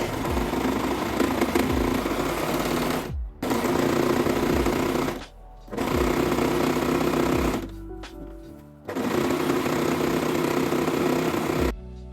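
A sewing machine finishing dress seams with an overlock or zigzag stitch, running in long loud steady whirring bursts close up, broken by three short pauses where the stitching stops and starts again.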